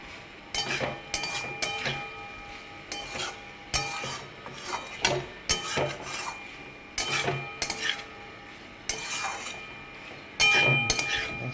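A spoon scrapes and clinks against a pan while a no-onion, no-garlic sauce is stirred, with irregular bursts of metallic rasping and short pauses between strokes, close and clear.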